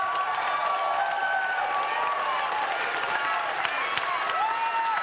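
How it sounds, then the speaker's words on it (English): A crowd at a university closing ceremony claps for a man, sustained loud applause with whoops and cheering voices over it, steady and full throughout. "Stand up, let's clap for him."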